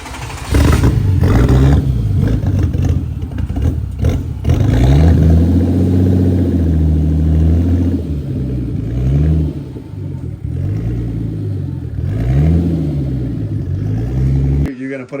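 Turbocharged Datsun 280ZX with an L28 engine revving on a dyno, loud rising-and-falling engine sweeps repeating through the clip with people talking underneath.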